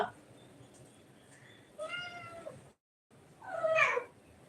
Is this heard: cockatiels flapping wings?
no